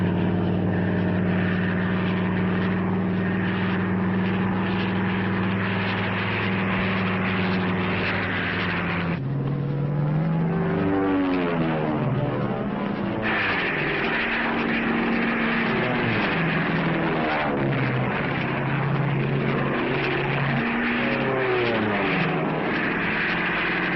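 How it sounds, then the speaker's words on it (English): P-40 fighter planes fly in a 1940s wartime setting, a continuous propeller engine drone that shifts pitch as they dive and sweep past, loud throughout with no talking. "the pilots dive in low over the ground, release the bombs, and speed away in a sweeping curve"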